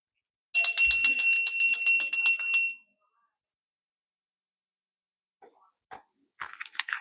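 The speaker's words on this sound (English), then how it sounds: "We're going to ring the bell" A bright metal bell rings in a quick run of repeated strikes for about two seconds, close and clear, then fades to silence, followed by a few faint soft clicks and rustles.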